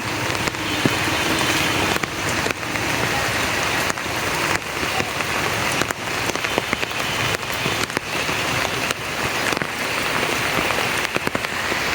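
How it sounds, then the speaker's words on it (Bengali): Steady, dense rain falls beside the Ichamati river in a village setting, a loud continuous hiss of drops on surfaces running without break and with no voices. "সারাদিন বৃষ্টি হচ্ছে দুই দিন হলে বৃষ্টি চলছে"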